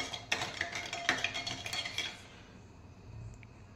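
Metal spoon stirring and clinking in several cups, a run of bright clinks and scrapes close by for about two seconds, then fading to quiet room tone.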